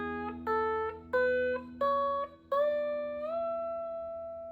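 Slide guitar in Open E tuning plays a Mixolydian scale up the first string, with a low open drone under a series of rising sliding notes and a long sustained final tone, quiet and close.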